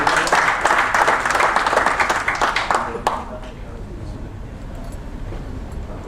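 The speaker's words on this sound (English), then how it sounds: "Let's have a round of applause for him." Round of applause from a conference audience welcoming a speaker at a technology event in Colombo, loud dense clapping for about three seconds that then stops, leaving quiet room noise.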